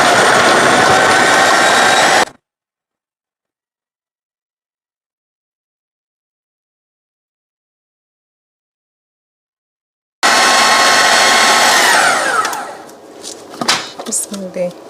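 An electric chopper whirs loudly while mincing food, stopping abruptly, then after a silence starting up again and winding down into a few clattering knocks, close by with no voices.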